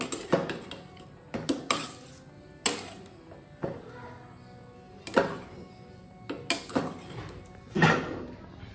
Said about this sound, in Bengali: এবার এটাকে ভালো করে একবার মিক্স করে নেব।